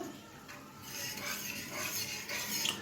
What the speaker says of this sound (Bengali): একটু জল দিয়ে মশলাটা ভালো করে কষে নিচ্ছে।